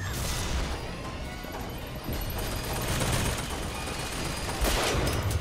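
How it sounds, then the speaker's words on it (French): Gunfire from the video game Bioshock Infinite rattles on in a dense, continuous barrage of shots and crashes, loud and busy throughout with no clear gaps. "Pas la moindre idée de ce qui me tire dessus."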